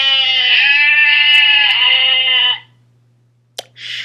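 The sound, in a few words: sheep bleating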